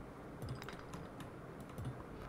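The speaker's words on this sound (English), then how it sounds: "Damn, that's fast typing." Rapid typing on a computer keyboard, a dense run of quick clicks with a few louder key strikes, steady and close over a low background hum.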